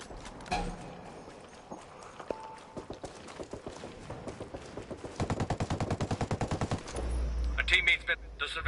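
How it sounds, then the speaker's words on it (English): Rapid bursts of automatic gunfire in the video game Ghost Recon Breakpoint, a fast evenly spaced string of loud shots in the middle of the clip, with scattered single shots and game sounds around it. "I hear gunfire."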